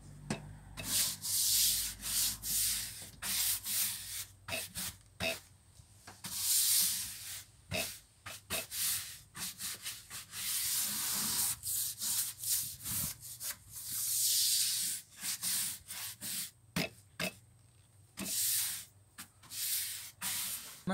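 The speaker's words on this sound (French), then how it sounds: "on prend un petit balai brosse et puis ben, on va venir enlever l'excédent d'eau" A stiff deck brush scrubs wet wooden terrace boards, producing repeated rough, hissing bristle strokes in irregular bursts with brief pauses, close and fairly loud with no talking.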